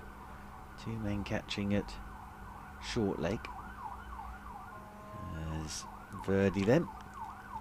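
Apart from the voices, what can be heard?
fire engine siren passing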